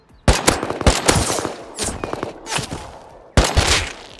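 Gunfire in the video game Rust: a few loud, sharp shots ring out in quick bursts with brief gaps between them, close and alone, as the last bullets are fired.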